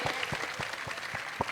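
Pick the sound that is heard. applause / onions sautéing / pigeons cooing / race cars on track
applause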